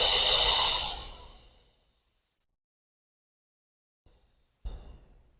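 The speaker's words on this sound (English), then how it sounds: "Deep breath in through your nose. Pause. Audible exhale." A long, loud breathy exhale after a deep breath in, fading out over about two seconds, followed by silence and then a short soft breath sound.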